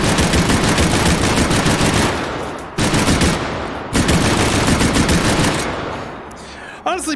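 A loud, monstrous-sounding gun in the VR shooter H3VR fires in long, dense automatic bursts close to the player, with brief pauses between volleys and a short electronic chirp near the end.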